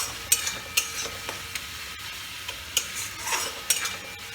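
A spice mix for a snakehead fish curry is sautéed in a pan, with a spatula scraping and stirring in a steady rhythm of sharp strokes over a soft, constant sizzle, close and fairly quiet, with no talking.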